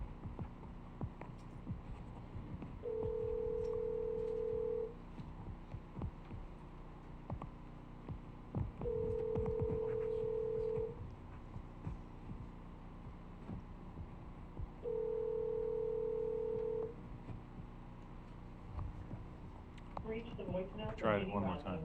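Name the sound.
telephone ringing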